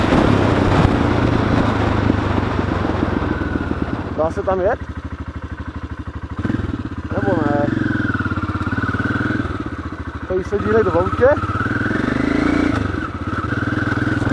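A Pegaso motorcycle engine rumbles steadily at low revs while riding through a forest, revving briefly a few times, while people talk over it.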